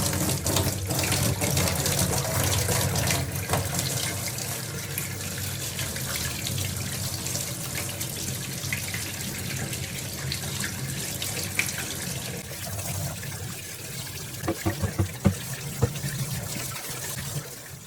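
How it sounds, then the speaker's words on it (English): Water from a utility room tap runs steadily onto a foamy tumbler, a close, constant splashing stream lasting throughout, with a few small clinks near the end. "I'm just gonna turn the water on and we're gonna see what happens."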